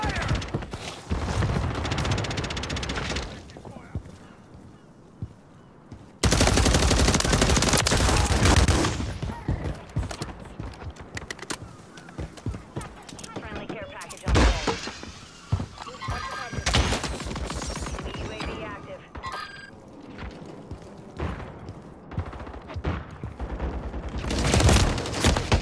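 Video game gunfire from Call of Duty Modern Warfare 3 multiplayer on the Vortex maps: repeated bursts and volleys of automatic fire with booms, loud and dense in stretches and thinner in others, with some game noise between.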